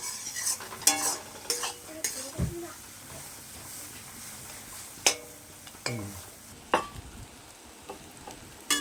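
Pointed gourd pulp, cooked with egg, frying in a wok while a spatula scrapes and stirs in irregular strokes, the clatter ringing out over a soft underlying sizzle.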